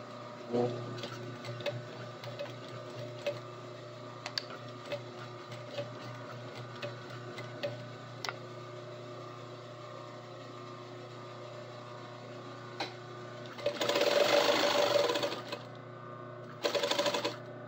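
A sewing machine stitches the ends of a fabric scrunchie together in a steady rapid ticking run, then pauses before two louder, denser bursts of stitching near the end.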